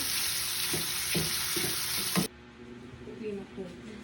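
Spam sautéing with tomatoes in a pan, a strong close sizzle with a few stirring scrapes that cuts off sharply, leaving a faint background with a voice speaking.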